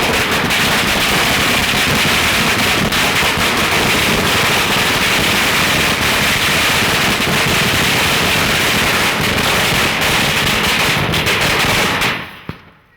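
Firecrackers go off in a dense, relentless string of loud cracking bursts, like rapid gunfire, which run nonstop for about twelve seconds and then cut off abruptly, with no voices heard.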